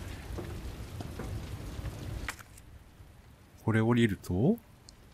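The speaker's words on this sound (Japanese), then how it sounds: "バルコニー、雨です。" Rain falls on a balcony in the video game Resident Evil 2, a steady soft hiss of drops for about two seconds before dropping to a quieter background patter, with someone speaking briefly near the end.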